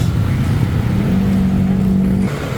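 A car engine on a road in traffic, revving with a steady rising hum held for about a second before dropping back, loud and close with no clear talking.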